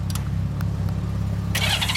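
A 1998 Canadian-spec Honda GL1500SE Gold Wing with its stock muffler idles steadily up close, a low continuous engine rumble with a brief brighter noise burst near the end.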